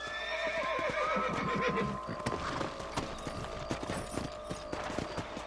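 A horse in the video game Red Dead Redemption whinnies loudly, then hooves clop steadily along with scattered thuds and ambient noise.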